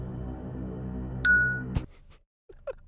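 A phone notification chime, a sharp bright ding that rings out briefly over a low sustained musical backdrop, followed by a sudden cut to near silence and a few faint sounds.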